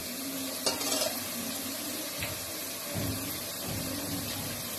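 Something is fried and stirred in a pan before vegetables such as carrots, peas, cabbage, capsicum and potato go in. A steady sizzle runs throughout, with a few sharper scrapes and utensil knocks near the start and scattered through.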